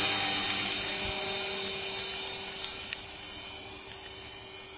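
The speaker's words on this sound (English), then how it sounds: "and there's the helicopter." An Arducopter-controlled model helicopter flying on autopilot at 36 km/h, its steady high-pitched motor whine and rotor drone holding constant and fairly loud, with no talk.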